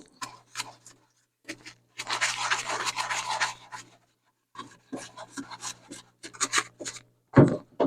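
Dirt is scraped out of the inside of a Farmall H tractor part, giving short rasping scrapes in irregular bursts with one longer sustained stretch, close and fairly quiet, with no talking.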